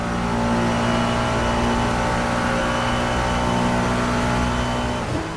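A Ferrari GT3 race car in Assetto Corsa holds a loud, steady high-revving engine drone at speed, near and continuous, easing slightly just before the end.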